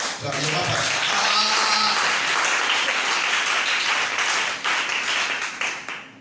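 A church congregation at a divine healing seminar applauds. The clapping is dense and loud, with scattered cheers and voices mixed in, and it fades slightly toward the end.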